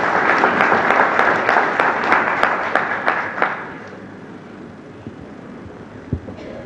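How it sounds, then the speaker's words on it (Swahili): A crowd at a hotel launch in Arusha claps for a government minister, fairly loud at first with a few sharp individual claps, then fading to quiet room noise after a few seconds. "Makofi kwa Mheshimiwa Ndumbaro."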